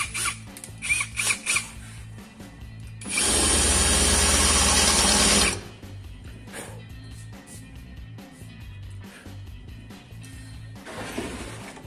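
A power drill bores into the hull of a sailboat under refit to clear out filler and sealant residue, a loud steady whine lasting about two seconds amid scattered clunks and handling noises.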